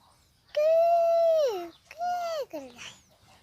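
A voice imitates a spotted dove's call: two drawn-out hooting notes, each sliding down in pitch at the end, close and clear, in a village in Mymensingh, Bangladesh.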